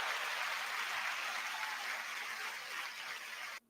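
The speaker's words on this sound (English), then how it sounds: "can we have a round of applause for Dixie?" Steady round of applause from an audience, a dense continuous wash of many hands clapping for a few seconds before cutting off sharply.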